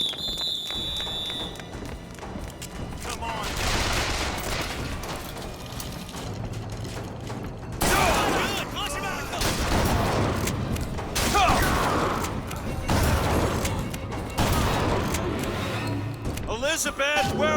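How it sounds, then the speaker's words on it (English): Repeated shotgun blasts from a first-person shooter, Bioshock Infinite, come in several loud, broad bursts spaced a couple of seconds apart over constant game noise, with someone talking throughout. "If Bioshock can do one thing right, that's have a really goddamn good shotgun."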